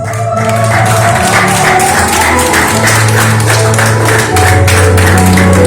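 A graduation ceremony audience applauds a graduate walking forward, steady dense clapping filling the hall for several seconds over a sustained low tonal hum.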